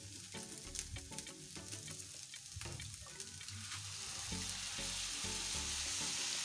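Beef stew with soy sauce sizzling in a frying pan, mixed together with a utensil; a steady broadband fry hiss that swells louder in the second half, with soft intermittent stirring scrapes and no talking.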